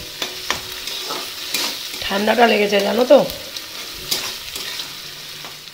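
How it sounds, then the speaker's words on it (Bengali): Onions frying in hot oil in a pan, a steady close sizzle with stirring scrapes, while someone speaks over it. "পেঁয়াজটা এগুলো ভাজা ভাজা হয়েছে বন্ধুরা"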